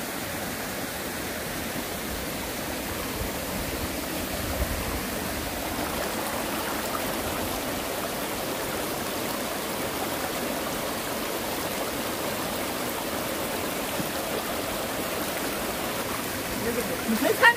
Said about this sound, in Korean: 그러니까 폭포수 있어요